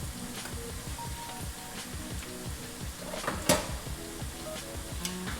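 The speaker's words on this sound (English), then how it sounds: "When they frying like this, you know that they're not done cooking." Food frying in hot oil for homemade nachos, with a steady dense sizzle and popping crackle throughout, close and loud, plus a sharp utensil clink near the middle and occasional stirring scrapes.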